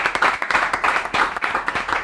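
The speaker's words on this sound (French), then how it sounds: "Bon point, on applaudit très fort." Students in a school quiz competition audience clap for a correct answer, quick uneven rhythmic claps from a group, fairly close and moderately loud over about two seconds.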